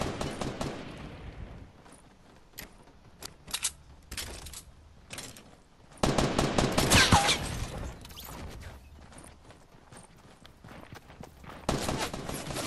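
Shotgun blasts from the video game Fortnite ring out as sharp, loud bursts, mixed with in-game footsteps and clicking mechanisms.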